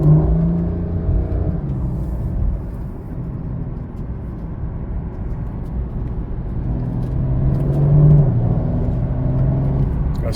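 A Porsche 911 Carrera 4 GTS T-Hybrid drives along twisting valley roads. Its engine hums steadily and close, swelling briefly as it accelerates through the turns, with no talk over it.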